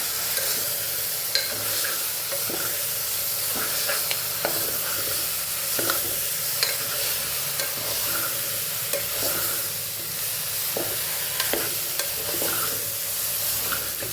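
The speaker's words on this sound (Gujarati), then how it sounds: "મસાલા સાથે સરસ શાકને આપણે સાતળી લેવાનું છે।" Cabbage and potato curry with spices, Kathiyawadi style with garlic and onion, sautés in a pan: a steady sizzle runs throughout, with frequent scraping stirs and small clicks of a spoon against the pan, and no talking.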